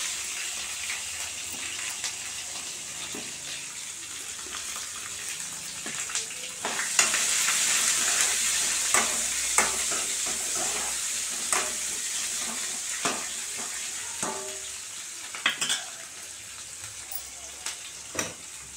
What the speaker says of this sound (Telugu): అలాగే సన్నగా తరిగి పెట్టుకున్న ఉల్లిపాయ 1 వేసుకొని బాగా వేగనివ్వాలి.